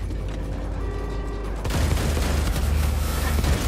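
Enemy gunfire in Wolfenstein II: The New Colossus, a quiet mechanical stretch before a burst of heavy, rattling shots and booms breaks out midway and keeps going loud to the end.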